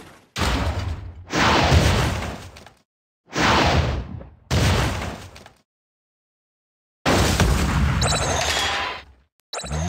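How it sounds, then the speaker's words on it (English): Rocket launches in a mobile action video game, heard as a series of loud, close whooshing blasts, each roaring for a second or two, separated by short silences, with a final abrupt burst at the end. "Rockets."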